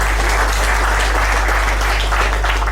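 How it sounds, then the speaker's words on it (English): Applause at an Indori International Business meet-up for Ms. Anju, a continuous patter of clapping from a room of people, partly buried under a loud, steady low hum. "So I want a round of applause for Ms. Anju, please"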